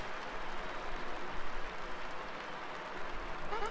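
A crowd applauds and cheers in a wrestling-style arena in the Paper Mario: The Thousand-Year Door remake, a steady, loud wash of clapping throughout.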